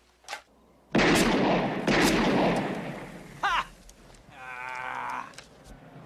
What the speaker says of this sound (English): So let's shoot us some beers.